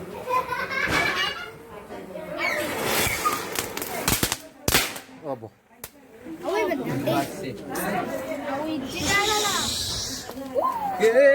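Firecrackers burst during a Tulasi Pooja festival celebration, giving a few sharp, isolated bangs and crackles amid constant lively chatter and children's voices nearby.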